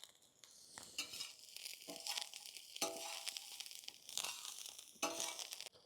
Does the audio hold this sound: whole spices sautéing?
yes